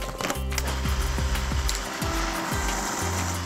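A food processor blitzes coriander curry paste made with vinegar, the motor whirring loud and close with repeated pitch swoops as the blades spin up and slow, briefly pulsed.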